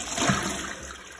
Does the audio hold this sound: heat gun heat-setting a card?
no